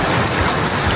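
An ocean wave washes onto a beach on Tenerife, a loud, close, continuous rushing wash of water heard on its own.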